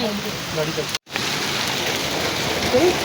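Heavy rain pours in Islamabad near a shed, a dense steady hiss of drops hitting surfaces close by, briefly cut off once, while a person talks faintly under it.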